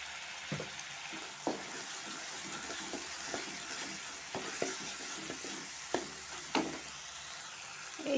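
A cumin and turmeric spice paste frying in oil, with a steady soft sizzle and scattered clicks of a spoon stirring the pan, fairly faint and with no talk.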